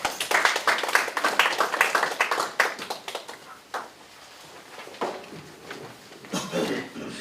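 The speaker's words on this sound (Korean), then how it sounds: "큰 박수 부탁드리겠습니다" An audience at a Korean safety culture seminar claps in sustained applause that gradually thins out, then a brief burst of clapping returns near the end.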